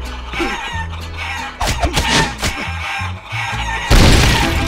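Cartoonish chickens in Guacamelee! Gold Edition cluck and squawk loudly over game music, with scattered impacts and a burst of crashing noise near the end.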